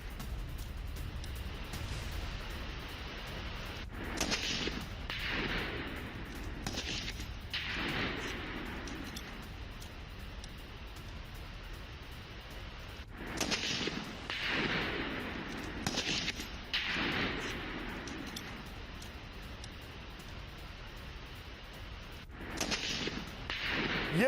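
Distant gunfire during weapons training near the Line of Control in Pakistan-occupied Kashmir, sounding as scattered clusters of faint sharp reports and rumbles separated by quiet stretches.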